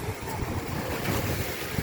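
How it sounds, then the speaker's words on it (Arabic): Waves on the sea at Targha beach wash and rumble in a steady broadband roar mixed with wind buffeting the microphone, fairly close and continuous. "وهذه هي بحر طرغة في اتجاه اخر"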